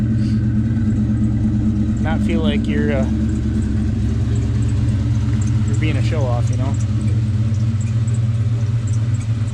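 Ford Mustang engine rumbles steadily at a low, even idle-like pitch, a constant thumping exhaust drone under a man's speech close to the microphone.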